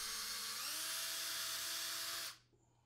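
Power drill boring pilot holes in a custom dishwasher door panel, a close, loud high-pitched whine that holds steady and rises slightly in pitch before cutting off abruptly.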